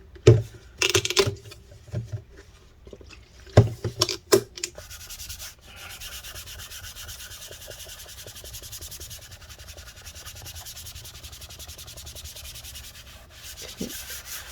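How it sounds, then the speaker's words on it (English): Cloth rubs and wipes across the bottom cover of a 13-inch early-2015 MacBook Pro A1502, with a few sharp knocks and handling clatters early on, then a soft, steady scrubbing close by. "oops, I got all that gunk on there, so let me clean that off"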